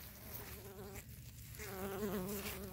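Bees pollinating squash flowers buzz close by in a continuous, wavering drone that rises and falls in pitch as they move about the blossoms, with no other sounds.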